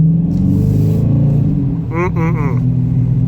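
A 2019 Dodge Challenger R/T's exhaust rumbles deep and steady in sports mode, heard from inside while driving in traffic, with a short burst of tonal noise partway through.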